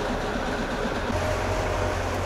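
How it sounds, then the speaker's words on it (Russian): An electric locomotive train departs in Yekaterinburg, rumbling and rolling with a low, steady drone, moderately loud and continuous, with no talking. "Поезд отправляется."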